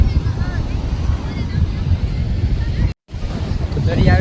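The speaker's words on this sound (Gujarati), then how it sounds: "આ બાજુ દરિયા આવ્યો છે" Sea waves wash onto the shore in a steady, broad roar, with wind buffeting the microphone throughout and a brief dropout near the three-second mark.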